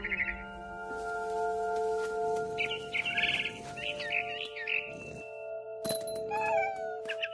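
A cat meows and chirps in the video game What Remains of Edith Finch, mixed with bird calls and tweets over a steady sustained tone, with no speech.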